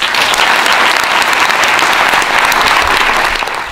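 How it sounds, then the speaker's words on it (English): Audience applause at a TEDx event, dense and loud clapping from a large crowd sustained throughout before easing slightly at the end. "Please give them a big applause."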